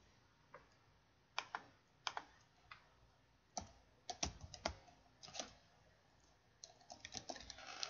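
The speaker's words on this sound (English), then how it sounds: "Just type in the word you want to add to my dictionary and press enter." Keys tapped on a computer keyboard to enter a word into a speech program, in short irregular bursts of clicks with pauses between, close and fairly quiet, with no talking.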